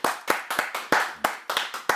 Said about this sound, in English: Can I give you a round of applause?